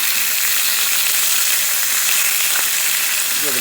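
Grilled chicken sizzles steadily in a pan, a close, continuous frying crackle that holds even throughout with no talking.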